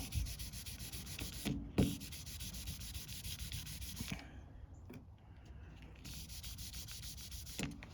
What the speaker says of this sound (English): If we sand around it now,